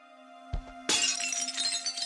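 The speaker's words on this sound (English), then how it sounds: "Plate fell." A plate falls and smashes in the ghost-hunting adventure game The Lost Crown: a brief knock, then a loud crash of breaking crockery with scattered shards ringing out over a low game drone.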